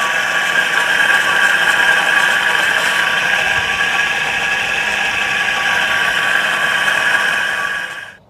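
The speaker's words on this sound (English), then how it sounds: "I'm going to go ahead and plug it in now, and you can see it actually running." A 1.5 horsepower, 110-volt electric motor on an Allied grain elevator runs at a steady hum with a bright tonal whine, holding evenly for about eight seconds before cutting off at the end.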